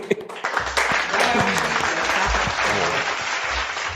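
A crowd bursts into applause, a dense patter of clapping that swells and holds for a few seconds, with faint voices mixed in.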